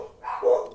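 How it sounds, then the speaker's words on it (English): A dog barks close by in a single short, loud bark that rises and fades, with no talking over it. "As my dog's barking."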